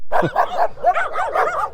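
A dog near a war memorial with an eternal flame barks and yips in a quick series of sharp, close, loud calls, with a short whine mixed in.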